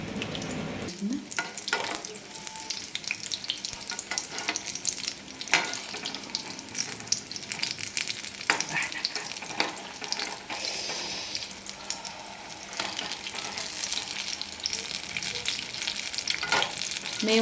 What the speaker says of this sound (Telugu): నూనె ఎగుతున్నప్పుడు